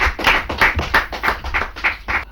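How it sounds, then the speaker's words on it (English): Studio audience applauding game show contestants at the close of the final stage of a competition, a steady stretch of brisk rhythmic clapping from a group, fairly close and without talk. "Please give them another round of applause."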